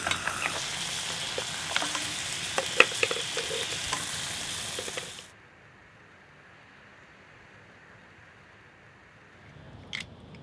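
Mussels and other seafood cooking in a covered, shaken pan for kimchi fried rice, a dense crackling sizzle for about five seconds that cuts off abruptly, then near silence and a brief clatter.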